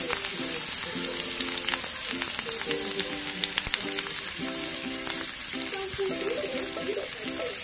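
Chopped onions sizzling steadily in hot oil in a pan for an Assamese curd and potato dish, a continuous close crackle with faint clinks.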